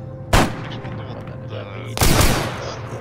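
Two heavy gunshot blasts in ArmA 3, each a sharp loud crack with a rumbling tail, about one and a half seconds apart over a steady low background hum.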